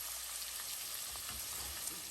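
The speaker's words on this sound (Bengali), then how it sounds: "সমস্ত গরম মশলা দিয়ে পেঁয়াজটাকে ভেজে নিচ্ছি" Onion fries in hot oil with whole garam masala, a dense, steady close sizzle with faint crackles, unbroken throughout.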